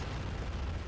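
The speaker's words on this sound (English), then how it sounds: "Oof. Big explosion there." Big explosion in the World War II strategy game Men of War during a beach landing, a dense continuous rumbling roar throughout, loud and close with no talking.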